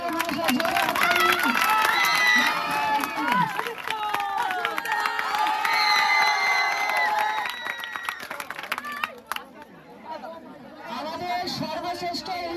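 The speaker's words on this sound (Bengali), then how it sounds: "জোরে হাততালি" Large outdoor crowd at a school football final's trophy presentation, dense clapping and chatter swelling loudly for several seconds before thinning out, then resuming more faintly.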